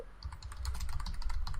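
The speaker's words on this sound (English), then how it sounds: "Oh, I hear typing." Computer keyboard typing in a podcast setting: a soft, steady run of quick key clicks, faint and close, with no talking over it.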